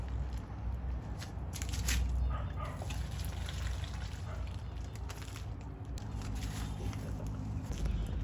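Cooked spaghetti is drained, with water splashing and gurgling in a steady wet stream and some clatter of the pot, heard up close in a home kitchen.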